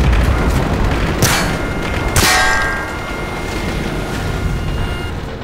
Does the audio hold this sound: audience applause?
no